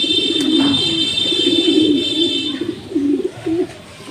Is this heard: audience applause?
no